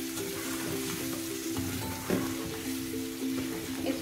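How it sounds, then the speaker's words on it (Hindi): Masala for chicken karahi fries in a pan, giving a steady close sizzle. Scraping stir strokes come through at intervals, with a sharper clatter midway, while a faint tonal hum runs underneath. "और थोड़ा सा भूनेंगे ताकि मसाला कच्चा ना रहे।"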